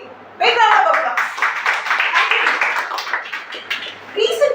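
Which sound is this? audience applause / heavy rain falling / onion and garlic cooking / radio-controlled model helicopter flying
audience applause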